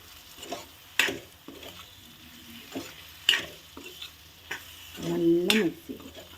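Lemon pickle mixed with fenugreek and asafoetida powder is stirred in a pot, a few sharp spoon scrapes and clinks spread between quieter mixing, with a brief low hum and muffled voice near the end.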